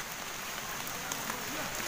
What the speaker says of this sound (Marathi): आणि पाऊस पण आलेला आहे बघा तेवढ्यात